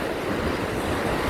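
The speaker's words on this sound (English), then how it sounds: "if the sound of the waves are kind of distorting what I'm saying" Ocean waves wash against a shore in a steady, loud, continuous roar of surf, with wind buffeting the microphone throughout and no voices.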